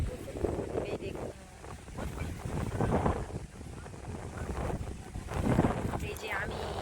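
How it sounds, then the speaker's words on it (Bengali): Strong outdoor wind buffeting the microphone in uneven gusts, loud and rumbling, with voices talking faintly underneath. "কি হাওয়া বন্ধুরা, সে মনে হচ্ছে যেন ঝড় উঠেছে হাওয়া"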